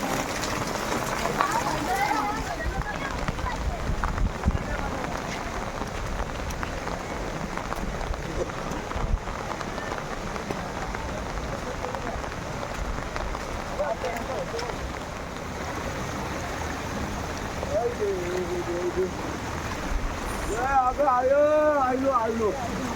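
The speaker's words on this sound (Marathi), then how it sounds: "पाऊस बघा किती धोधो आहे" Heavy downpour drenches pilgrims climbing the stone steps up the Ekvira temple hill, a steady loud hiss of rain running the whole time, with a voice speaking briefly near the end.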